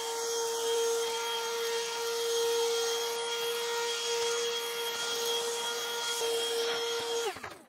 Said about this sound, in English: I think I'm just gonna suck up these dust bunnies into my little vacuum cleaner here.